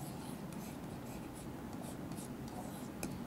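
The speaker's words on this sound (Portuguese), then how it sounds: "vamos escrever o primeiro termo" Pen or marker writing out the first terms of a sequence: soft, quiet scratchy strokes in short bursts at an uneven rhythm, close and alone.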